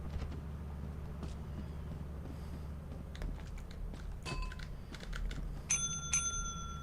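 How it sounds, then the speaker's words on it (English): A bell rung repeatedly inside the space-horror video game Lethal Company, its bright metallic dings arriving in a cluster near the end over steady low engine-like hum and game background noise. "I'm outside ringing the bell, you see."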